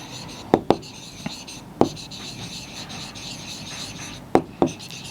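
Chalk or marker strokes on a board during a Class 10 maths lesson on polynomials, a few sharp taps and scratches spaced irregularly over a quiet room background.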